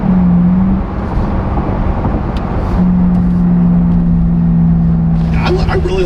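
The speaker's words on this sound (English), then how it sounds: "I really like that exhaust. That sounds really good." A Chevrolet C8 Corvette E-Ray's engine rumbles and revs while accelerating, a deep, droning exhaust note that rises and holds, loud and nearby, with faint talk mixed in.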